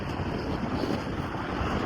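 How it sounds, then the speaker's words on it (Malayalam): Strong, hot wind outdoors in Education City, Doha, buffeting the microphone as a dense, steady roar with constant low rumbling gusts throughout. "നല്ല കാറ്റും നല്ല ചൂടും ഉണ്ട്."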